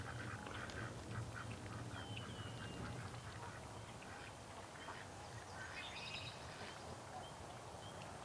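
Ducks quack repeatedly at moderate distance over a steady outdoor background hum, with scattered calls throughout.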